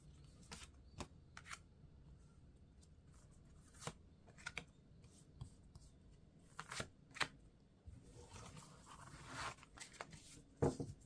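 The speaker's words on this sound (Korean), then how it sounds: "여기 있는 이 주역 카드로 제가 먼저 조언을 셔플해 볼게요." I Ching divination cards are shuffled by hand, giving soft papery riffles and sharp flicks at an uneven pace, quiet and close with no talking.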